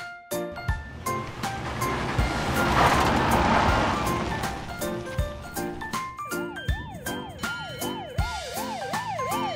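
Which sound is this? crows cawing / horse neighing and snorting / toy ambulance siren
toy ambulance siren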